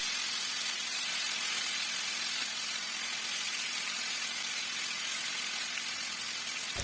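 Chicken pieces for chicken tikka resha kabab cutlets frying in oil in a frying pan over a high flame, giving a loud, dense, continuous hiss that stays steady throughout.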